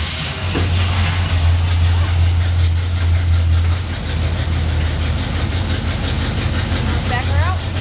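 A Chevy truck engine runs at a deep, rumbling idle close by, with a low drone that dips partway through, while people talk over it.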